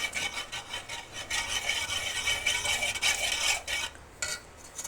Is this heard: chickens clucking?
no